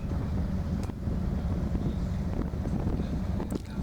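A boat motors along at idle speed, a low steady engine rumble mixed with wind buffeting the microphone, continuous throughout with no talking.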